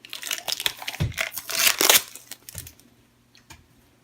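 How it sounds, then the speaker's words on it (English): Tape pulled off a cardboard poster tube during an unboxing, a close crinkling, tearing rasp that peaks for about a second and then fades to quiet handling noises. "I will go ahead and pull this tape here."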